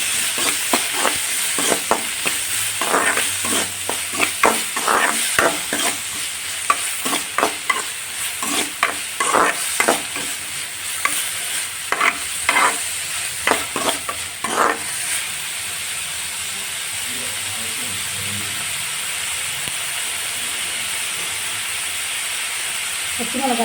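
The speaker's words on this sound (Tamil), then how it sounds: "எண்ணெய் சூடாயிடுச்சு. வெங்காயத்தை சேர்த்து" Onions frying in hot oil for egg podimas, stirred with rapid repeated scraping strokes over a steady sizzle for about fifteen seconds, then a quieter hiss alone, close and fairly loud.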